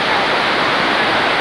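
A waterfall roars loud and close, a dense, steady rush of falling water with no break across the short stretch.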